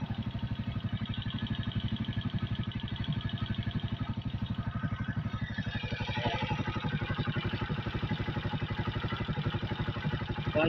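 A motorcycle engine idles steadily at low revs, a rapid even chugging pulse with light mechanical clatter, moderately quiet and close, with no speech.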